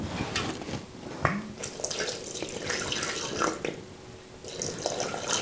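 Water poured into crepe batter, a steady trickling splash close by with a few small knocks of bowl or utensil, no talking over it.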